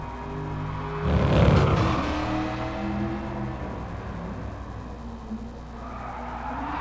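A 1966 Shelby Cobra 427 with a 7-litre V8 big block slides and fishtails in GT Sport, its tires screeching loudly in one long skid as the engine roars, then the squeal fades into steady engine drone.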